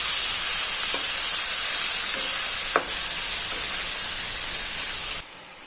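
Wild leafy vegetables stir-fried with spices in a pan give a loud, steady hiss and sizzle, with a few faint stirring clicks, until the sound cuts off abruptly near the end.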